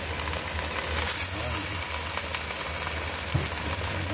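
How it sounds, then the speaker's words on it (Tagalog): Cabbage sautéing with canned sardines in a pan, a steady soft sizzle with faint stirring beneath, close and continuous, with a voice talking over it. "Kasi ginisang repolyo ating niluluto."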